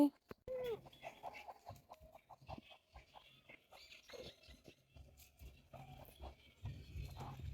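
Chickens perched up high cluck in short, scattered bursts at close range, with a few brief voices and other faint background noises between the calls.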